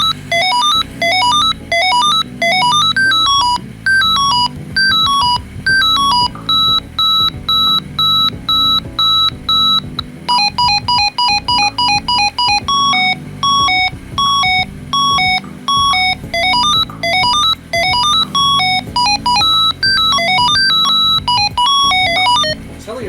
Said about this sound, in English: So ringtones on the Midland GXT1000G.